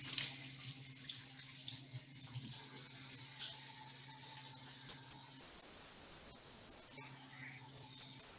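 Tap water runs steadily into a kitchen sink as hands are washed, a soft continuous hiss and splash at low level with brief changes in the flow.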